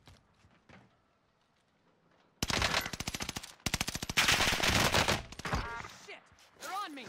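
Rapid automatic gunfire from an Owen gun in Call of Duty Vanguard Warzone on Rebirth Island, loud dense bursts after a quiet start, with short pauses between volleys and voices talking in the background.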